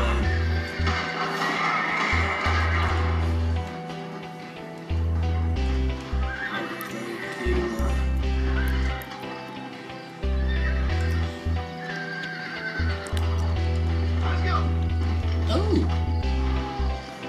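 Horses in the Red Dead Redemption video game whinny and neigh repeatedly over steady clip-clopping hooves and a constant low rumble of game music and ambience, with a brief voice in the background.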